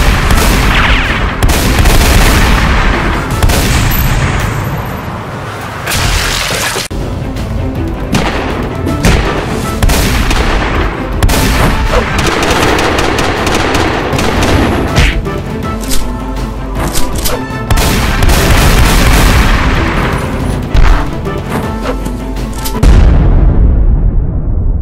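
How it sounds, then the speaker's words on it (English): Gunfire in an action scene: loud, dense bursts of shots and booming blasts run continuously under a music-like roar for about twenty-three seconds, then cut off abruptly. "Harlan, shoot that motherfucker!"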